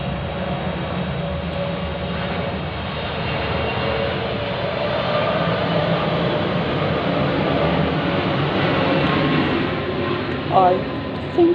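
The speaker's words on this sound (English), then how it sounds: "Can you hear the plane going over?" An airplane passes overhead as a steady, broad engine roar that swells slowly for around ten seconds indoors, with a faint voice and brief household sounds near the end.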